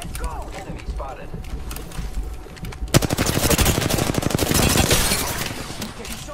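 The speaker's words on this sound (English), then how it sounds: "Getting shot at." Rapid automatic gunfire rattles in a shooter game with a Sentinel, first as scattered distant shots, then a dense, loud burst of sustained fire lasting several seconds, with no talk.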